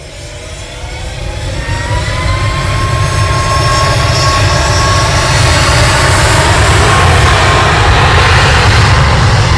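A Ryanair jet at Manchester Airport roars in head-on, its engine noise loud and swelling steadily with a rising whine across the stretch, heard alone with no voices.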